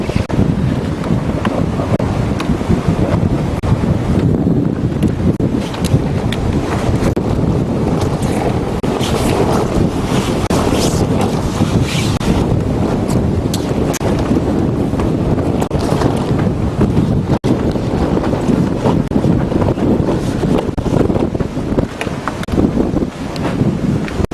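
Strong wind of about 42 knots roars steadily over a sailing catamaran at sea, a loud continuous buffeting rush with microphone wind noise and water wash, no talking.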